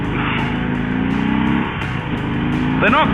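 A Harley-Davidson Sport Glide cruiser motorcycle on the move gives a steady, throbbing engine drone mixed with wind rush, and a voice is faint near the end.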